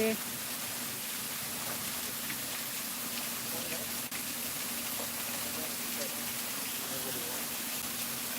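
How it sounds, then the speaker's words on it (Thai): Natural stream water flowing down from a mountain beside a cafe makes a steady, close, even rush that fills the whole stretch without letting up. "นี่นะคะน้ำไหลจากเขานะคะน้ำธรรมชาติ"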